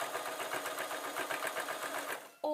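A sewing machine stitches around the edge of a quilted fat quarter fabric box, a fast, steady, close mechanical chatter running without pause before stopping abruptly with a short clunk and whine at the end.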